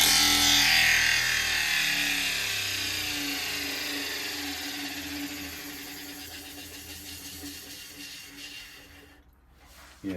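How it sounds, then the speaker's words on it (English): A bench grinder winds down after sharpening a woodturning bowl gouge, its loud whine and rumble fading steadily over several seconds before cutting off near the end, with no talking. "I'm going to stop the grinder."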